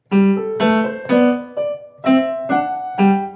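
A piano plays a short phrase of paired notes, the low bass notes heavy and loud beneath lighter, softer upper notes, in a steady pulse.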